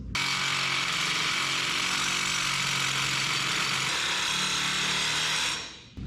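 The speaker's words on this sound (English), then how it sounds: "That blade ain't liking going through that weld, is it?" Power tool blade cutting through a weld on a 1992 Toyota pickup, a loud, continuous harsh grinding whine that holds steady for several seconds and then cuts off.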